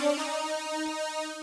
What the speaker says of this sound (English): I play it using my favorite synth, the Juno synth.